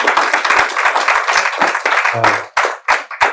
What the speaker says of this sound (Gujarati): ખૂબ તાળીઓથી એમનું અભિવાદન કરીશું.